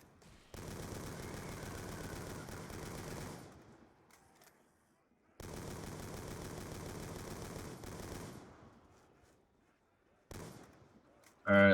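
Sustained bursts of automatic gunfire from a zombies shooter game on the Monopoly board map, two long rattling volleys with a short third burst, loud and continuous with brief quiet gaps between.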